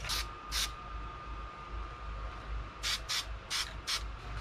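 Short bursts of an aerosol spray can coating a minibike part, two quick hisses followed by a cluster of four more, close by with a faint steady hum underneath.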